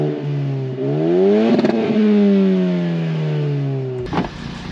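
A car fitted with a catback exhaust accelerates hard, its engine note rising steadily through the revs, easing once and climbing again before cutting off abruptly near the end; loud, close and without talk.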